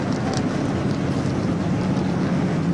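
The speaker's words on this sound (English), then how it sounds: "V8s roar to life." Deep, throaty V8 race car engines starting and roaring continuously nearby at the 1981 Bathurst 1000, a dense rumbling drone with no talking.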